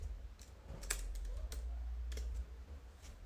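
Keystrokes on a computer keyboard, a quick run of light clicks at close range over a low background hum, with no talking.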